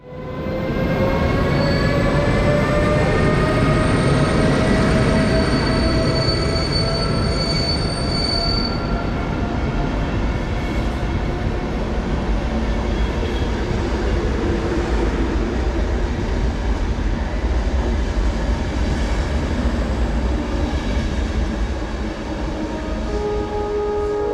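RegioJet train pulling into Budapest Kelenföld station, with loud, sustained wheel squeal and steady rolling rail noise throughout as the train slows alongside the platform.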